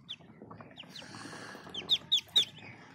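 Muscovy ducklings give high thin peeps in a short burst, ending in three louder calls close to the microphone, with no talk.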